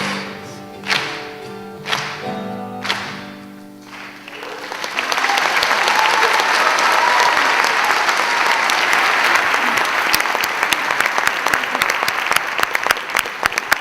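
A crowd applauds student performers at an anti-hate event, loud sustained clapping that builds after a few sharp thumps and keeps going steadily.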